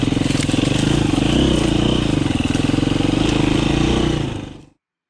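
A 350 EXC-F dirt bike engine drones loud and close in a continuous throbbing pulse while climbing, holding steady throttle for several seconds before cutting off abruptly into silence.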